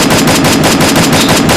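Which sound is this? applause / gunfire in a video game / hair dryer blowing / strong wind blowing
gunfire in a video game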